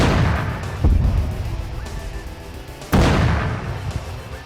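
Heavy cannon shots from armored mecha in a video game, two loud booming blasts about two seconds apart, each with a sharp crack and long rumbling decay into low battlefield noise.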